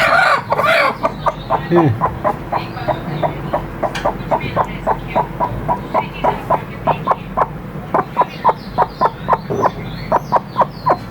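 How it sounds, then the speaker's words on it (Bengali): Brooding hens sitting on eggs atop a household showcase cluck in a steady, rhythmic series of short close calls, with a brief spoken word near the start. "মুরগি এই দেখেন, এই যে কতগুলো ডিম দিয়ে বসাইছে"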